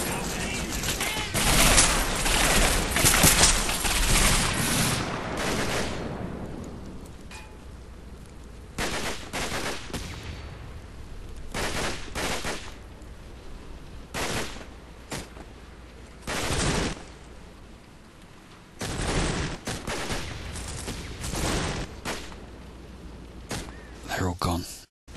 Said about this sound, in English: Commander, fire up. 2 heavy machine guns.